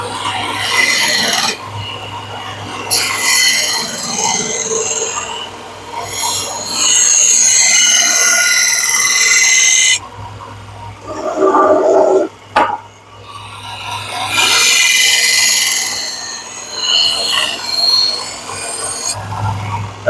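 A 250mm Takeda NAS gyuto is hand sharpened on a whetstone, giving loud, close rasping strokes in long repeated runs, with short pauses between the runs.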